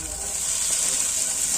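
Boiled chickpeas fry in a pan for chowmein, giving a steady, close, even sizzle with no breaks and no voices.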